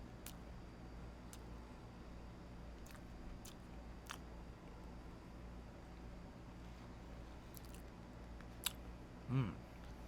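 Someone chews food at a backyard anniversary barbecue, faint quiet crunching and biting clicks scattered over a low steady background hum, with a brief soft murmur near the end.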